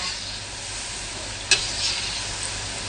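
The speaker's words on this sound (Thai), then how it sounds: "เราก็จะทอดไปเดือดน้ำมันแรง แรงที่สุดได้ยิ่งดีนะคะ" Fish-filled Thai pastries fry in very hot oil, a steady close bright sizzle with one sharp pop or tap partway through, and no one speaks.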